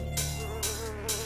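Buzzing insect wings, a mosquito's high-pitched whine, hum steadily and close with a rhythmic pulsing, swelling in brief loud bursts roughly every half second.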